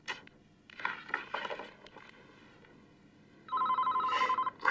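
A home telephone rings in bursts of a bright electronic bell, following a stretch of quieter speech-like sounds and clatter, loud and near toward the end.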